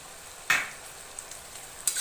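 Chicken frying in a pan with spiced water added, a faint steady sizzle broken by two sharp stirring scrapes and a few small clicks, close and without talk.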